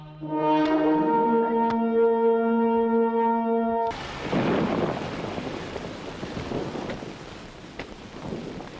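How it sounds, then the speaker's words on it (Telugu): A sustained tonal note gives way abruptly to a loud, dense hiss of heavy rain with faint rumbles beneath, steady and close throughout. "వర్షం పట్ట మంచిదేగా, భూమి చల్లబడుతుంది."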